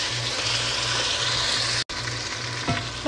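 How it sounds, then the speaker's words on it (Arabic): Chicken pieces sizzle and hiss in a pan of browned onions and whole spices over high heat while being stirred for biryani, a loud, continuous fry with one brief drop and a scrape near the end. "راح اقلب الدجاج لحد ما يتحمر"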